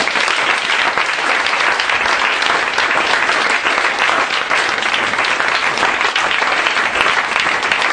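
An audience at a church service applauds steadily, dense continuous clapping from many hands filling the room at an even, loud level for the whole stretch.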